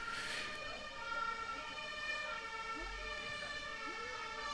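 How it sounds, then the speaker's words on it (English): Emergency vehicle sirens wail steadily in the distance, a sustained, wavering tone over low background noise. "Do you guys hear the sirens?"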